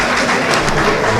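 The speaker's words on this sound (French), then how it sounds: "avec vos applaudissements" Brief burst of dense, loud audience applause at a political speech in Mali, continuous clapping with no pause.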